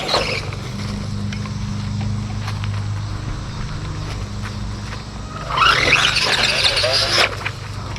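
A new four-wheel RC car reverses and then accelerates hard, its motor and spinning tires giving a sharp, loud whining squeal late in the clip over a low background rumble, with voices nearby.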